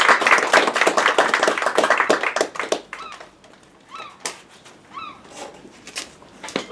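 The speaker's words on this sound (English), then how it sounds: "Would you please all give him a round of applause?" An audience applauds to welcome David Rogers to a log craft demonstration at the Log House Museum; dense clapping runs for about three seconds, then thins out into scattered claps among softer background noise.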